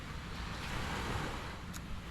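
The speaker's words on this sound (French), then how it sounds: "écouter les vagues et aller me baigner" Ocean waves wash steadily onto the beach at Koh Tao, a continuous close roar of surf with wind noise buffeting the microphone and no voices.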